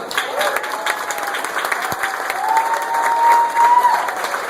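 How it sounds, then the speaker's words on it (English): A crowd at a get-out-the-vote rally applauds steadily, dense clapping with some cheering mixed in, fairly loud and close. "So give yourself a round of applause."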